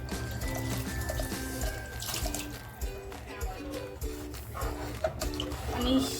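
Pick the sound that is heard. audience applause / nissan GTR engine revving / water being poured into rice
water being poured into rice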